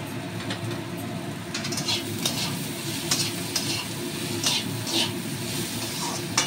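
Ridge gourd sizzles steadily as it fries in a pan with salt, with a spoon scraping and stirring through it in close, continuous strokes.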